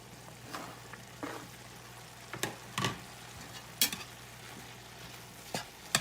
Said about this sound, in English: Now that my ground beef has started cooking good, I'm going to go ahead now and add my onions and peppers.